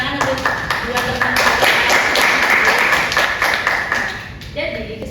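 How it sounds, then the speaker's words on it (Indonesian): Classroom applause for two students during a micro-teaching practice lesson: a steady burst of many hands clapping that holds for about five seconds and then tapers slightly toward the end. "Begitu beri tepuk tangan untuk dua teman."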